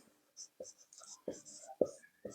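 Chalk or marker writing on a board while a maths equation is solved, short scratchy strokes with tapping contacts in an uneven rhythm, quiet and close, with soft speech in between.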